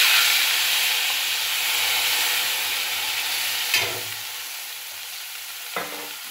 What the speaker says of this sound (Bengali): এবার ফোড়নে দিয়ে দেব কালো জিরে।